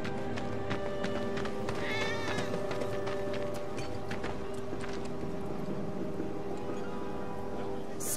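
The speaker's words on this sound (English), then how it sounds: "I think one of Betty's cats might be nearby." Cat meowing in Final Fantasy VII Remake, a short rising meow standing out briefly over a steady game background of music and ambience.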